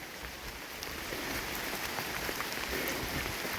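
Steady rain patters and splashes nonstop, a dense even hiss of drops hitting wet ground and puddles on a motorcycle trip, with no voices.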